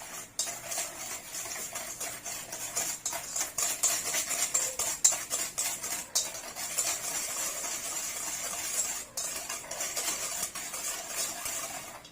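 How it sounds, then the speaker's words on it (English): Sour cream muffin batter being whisked in a bowl for blueberry streusel muffins, a steady run of light metallic scraping and clicking against the bowl over about twelve seconds, fairly quiet and continuous with no voice. "So we whisk it together until it's well blended."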